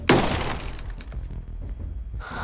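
Bulletproof glass shatters loudly in the Ghost Recon Breakpoint video game: a sharp burst of breaking glass, then scattered shards and debris trailing off under a steady game background.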